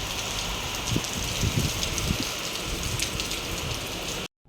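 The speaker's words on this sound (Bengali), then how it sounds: "প্রচুর বৃষ্টি হচ্ছে দেখো।" Heavy rain pouring down, a dense close patter of drops hitting surfaces, loud and continuous before cutting off abruptly at the end.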